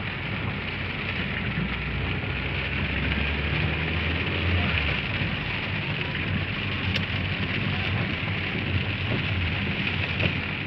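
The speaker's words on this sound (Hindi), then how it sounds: "इस दफ़ा की बारिश काफ़ी तेज़ बारिश है" Heavy rain pours during a severe storm in Naya Nazimabad, a loud, dense, unbroken hiss that stays constant throughout, with a low rumble underneath.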